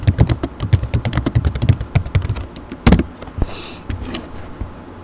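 Fingers type on a computer keyboard nearby, a quick run of crisp key clicks followed by a few sparser taps and a louder clack.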